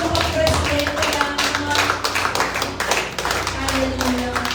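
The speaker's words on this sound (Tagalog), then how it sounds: "Yung palakpak na para sa Diyos." A church congregation claps for the Lord in a dense, rhythmic burst of steady, loud handclaps that carries on throughout, with voices faintly mixed in.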